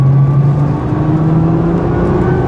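Nissan car driving hard on the Homestead-Miami Speedway race track, a steady loud engine drone with rising tonal whine as it powers off a corner, continuous and close throughout.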